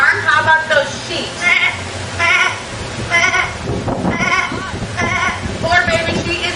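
A woman imitates sheep bleating in several wavering, nasal bursts, one after another at close range, with hardly a pause between them.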